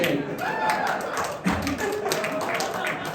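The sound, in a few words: comedy club audience clapping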